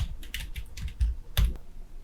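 Typing a style name on a computer keyboard in word-processing software: irregular bursts of close, crisp key clicks with a few heavier thuds, no talking.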